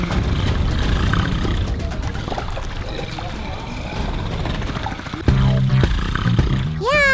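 A crocodile in a pond at the Blanakan swamp gives a low, rough growling rumble over churning water noise. It grows louder near the end and finishes with a sweeping whoosh.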